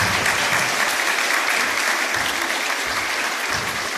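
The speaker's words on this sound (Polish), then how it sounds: "Szczególne brawa dla naszych artystów" A dense, steady wash of audience applause for a drumming ensemble from a school for deaf people in Racibórz, at a seniors' meeting, holding at an even, full level throughout with no voices over it.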